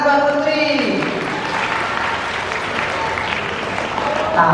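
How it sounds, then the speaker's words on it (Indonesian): A school audience at an Isra Mi'raj gathering at a Samarinda junior high school claps for a girl named Putri, a loud, sustained round of applause with crowd noise and a voice briefly speaking at the start. "Tepuk tangan buat Putri."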